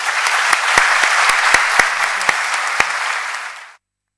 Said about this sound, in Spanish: Estos aplausos para Ángel Salvi.